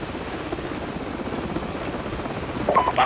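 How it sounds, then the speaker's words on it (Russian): Helicopter returning in Call of Duty 4, a muffled continuous rotor drone with a hissing rain-like wash, moderately loud and swelling slightly toward the end, no speech. "Держитесь, вертолет возвращается."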